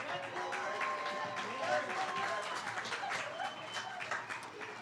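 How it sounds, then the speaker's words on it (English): A crowd at a high school promenade claps continuously at a moderate distance while a voice speaks over the applause. "let's have a huge round of applause for our last couple"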